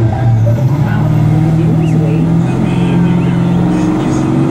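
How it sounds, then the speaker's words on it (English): A Pontiac Trans Am races a 5.0 Mustang, engines roaring loudly and steadily throughout with a droning tone that rises in pitch, close by and nearly continuous. "That Trans Am sounds like it got something in it."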